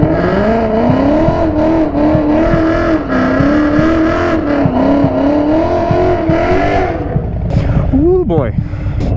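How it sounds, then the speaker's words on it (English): A Harley-Davidson Fat Bob motorcycle on a drag strip holds a loud, droning engine note that wavers in pitch, then the revs climb sharply near the end. "Today we are up at the drag strip and I am doing my first drag race"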